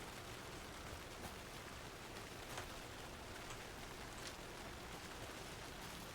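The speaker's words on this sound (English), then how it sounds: "Can I just get rained on for a second?" Steady, faint hiss of falling rain in a video game, with occasional louder drop spatters, continuous and even throughout, no voices.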